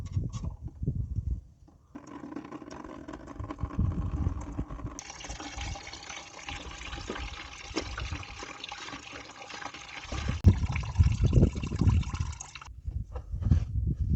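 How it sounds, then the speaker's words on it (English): Coolant trickles and drips from a Dodge Grand Caravan engine during a water pump replacement, with soft irregular splashing and a faint continuous flow between louder clatters at the start and end. "There's the coolant already dripping out."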